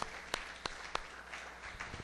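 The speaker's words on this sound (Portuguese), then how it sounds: "Mais uma salva de palmas ao Senhor." A church congregation claps in praise, a few sharp, distinct claps spaced about a third of a second apart over a faint room background, then thinning out into softer scattered claps.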